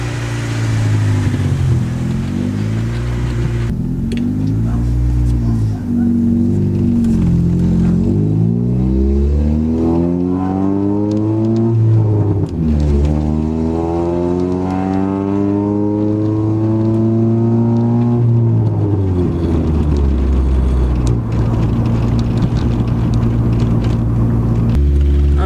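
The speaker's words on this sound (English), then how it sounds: "I'm going to take it for a spin around the block and see if it's at least still doing that bogging thing." A car is driven around the block with its engine bogging and surging: loud, continuous engine drone whose pitch repeatedly climbs, sags and swells with throttle changes, close and steady throughout, no talking.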